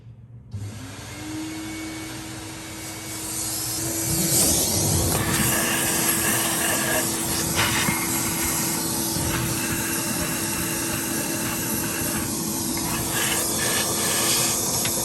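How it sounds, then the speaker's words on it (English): A vacuum cleaner starts up with a rising whine and then runs steadily and loudly, drawing dust out of the engine bay of a 3.2 Ford Ranger, with shifting suction noise as the nozzle moves. "I'm just going to grab a vacuum and a little brush and just try and get rid of some of this extra dust"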